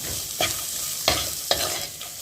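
Spring onion greens with green chilli, garlic and ginger stir-fried in a pan, a steady sizzle broken by a few sharp scraping strokes of a spatula, close and alone.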